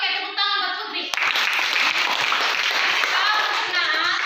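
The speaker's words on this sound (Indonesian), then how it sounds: "tepuk tangan buat Putri." Students in a classroom break into a burst of applause, many hands clapping close by for several seconds after a teacher's voice.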